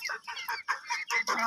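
Chickens on a rooftop cluck in quick, close bursts while pecking at scattered flour and grain, several overlapping calls in a busy, uneven rhythm.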